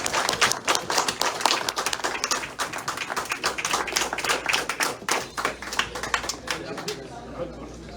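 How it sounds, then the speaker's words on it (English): Audience applause at a snooker hall of fame induction ceremony, a dense burst of many hands clapping that holds steady for the full eight seconds, with voices mixed in under the clapping. "On applaudit!"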